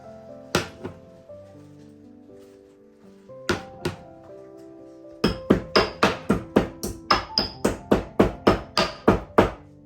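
About three cardamom pods are pounded in a home kitchen: a few separate sharp knocks, then a steady, rapid run of around sixteen close, hard thuds.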